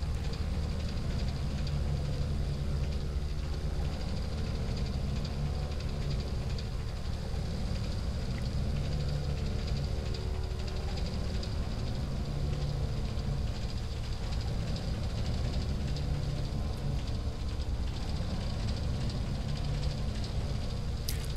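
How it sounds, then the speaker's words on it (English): An aircraft engine drones steadily in the flight simulator X-Plane 10, apparently running rough, a loud, unbroken humming roar with a low tonal hum that holds for the whole stretch. "Can't help but think something still doesn't sound right with this engine here."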